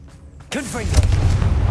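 A Confringo explosive spell blasts in Hogwarts Legacy: after a quiet moment, a sudden loud boom erupts, followed by sweeping whooshes and a sustained rumbling roar.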